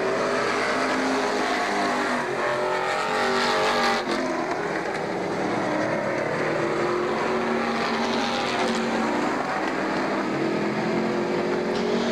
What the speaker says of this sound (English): However, Baldwin's got the horsepower exiting on the bottom side in turn number 2.